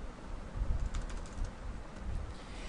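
Typing answers on a computer keyboard, a brisk patter of light key taps close by, fairly steady with brief pauses and no speech.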